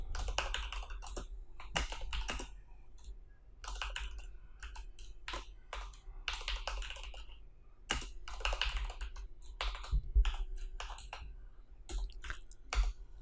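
Continuous clicking of a computer keyboard while someone types PHP code, a busy irregular rhythm of close, crisp keystrokes with short pauses, no talking.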